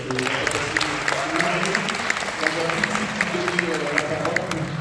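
Conference audience in France clapping for a tennis star introduced as event patron, a moderate burst of applause mixed with a speaking voice over the top.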